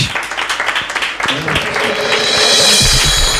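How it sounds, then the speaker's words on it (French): Studio audience applause closing a French-language broadcast show about blogs: a dense, steady wash of clapping that swells and grows brighter and fuller toward the end, heard close and without talk. "on applaudit pour Sco qui est au Québec"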